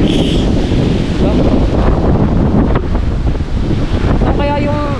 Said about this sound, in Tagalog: Sobrang lakas naman ng hangin.